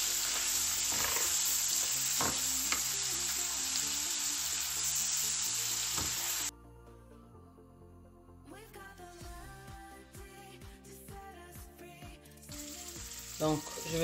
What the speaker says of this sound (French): Je mets un tout petit peu de bouillon très léger. Et je mélange le tout.